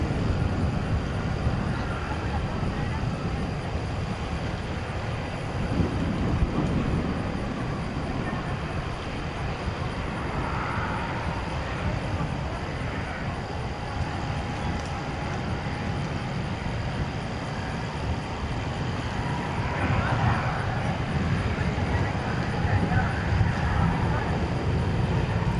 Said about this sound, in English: That was American 1371, an Airbus A319 off to Des Moines, Iowa.